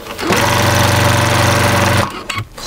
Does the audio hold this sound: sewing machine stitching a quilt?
yes